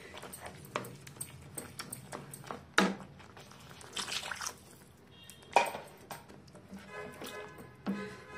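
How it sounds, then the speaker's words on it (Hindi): Water is poured into thick tomato puree in a cooking pan, making quiet, intermittent splashes and sloshes with occasional soft clinks. "इसमें हम अभी थोड़ा पानी और डालेंगे।"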